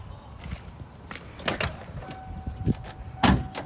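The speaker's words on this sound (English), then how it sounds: "You have to lift up the door because it's all broken" A heavy, broken door on a 1995 Ford F-150 truck creaks and clunks as it is lifted open, with several scraping knocks and a final loud metallic bang.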